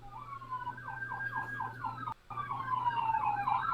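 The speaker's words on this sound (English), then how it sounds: "Wait till the siren goes by before you start talking again." A passing emergency vehicle siren wails in a rising and falling pattern, briefly cut off midway, then returning louder and closer over a low steady hum.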